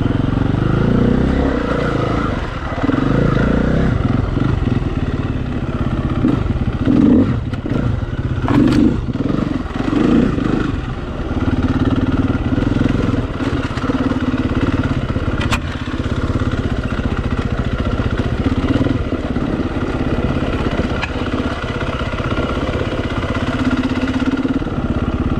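A big motorcycle engine runs loud and close at Appin, NSW, with a continuous rough drone, slight rises and dips in revs and mechanical clatter throughout.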